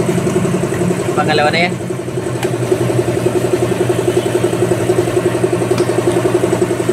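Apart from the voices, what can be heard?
Suzuki motorcycle exhaust, engine idling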